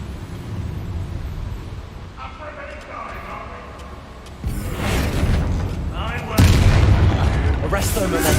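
Booming explosion blasts of the Bombarda spell in the Hogwarts Legacy video game, two heavy loud impacts in the second half after a quieter stretch of ambient game noise.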